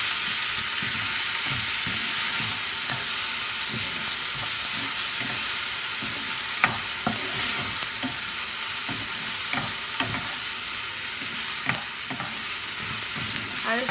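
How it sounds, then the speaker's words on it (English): Chopped onion, green chili and ginger frying in a kadai for kadai prawns: a steady, bright sizzle throughout, with repeated soft scraping and clinking stirs, no voices. "I will fry the onion"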